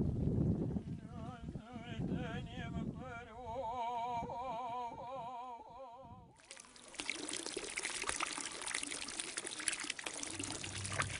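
Water flowing into nylon-lined ponds in the village of Garin: a soft trickle with wavering tonal calls over it, then a sudden loud, steady rush of water that continues to the end.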